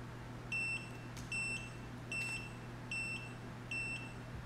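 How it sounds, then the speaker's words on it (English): Electronic beeping from a custom-built FPV drone during programming, in five evenly spaced bursts, each a quick double or triple high-pitched bleep, over a steady low hum. "I'm not really sure what the beeping is for"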